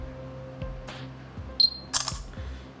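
Shutter sound from a Samsung Galaxy Gear smartwatch camera, a short bright electronic click with a brief tone, heard once near the middle against a quiet room with faint handling taps.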